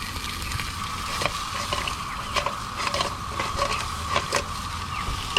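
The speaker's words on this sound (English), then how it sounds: "So just cook the crab off just for a couple of minutes." A giant mud crab sizzles steadily in a pan over a gas cooker for chilli crab, the constant hiss broken by sharp scraping and stirring clicks, with no talking.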